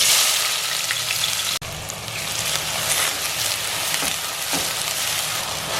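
Green masala paste and onion sautéing in hot oil and ghee, a loud continuous dense sizzle with crackling spatter, broken by one sharp click early on, then steady frying with faint stirring.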